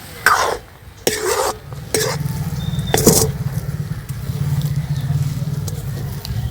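Semolina cooking in hot water, stirred in a pot: a few sharp scraping strokes early, then a steady low bubbling and thick stirring churn that continues close and fairly loud with no talking.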